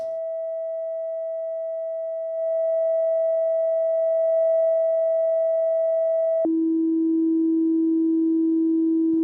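A steady pure sine-wave tone from a Eurorack stereo panner module hums alone, swelling slightly partway through, then drops abruptly to a lower pitch that holds to the end.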